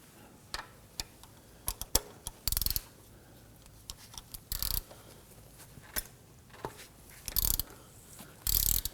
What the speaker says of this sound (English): we use our ratchet to loosen and remove that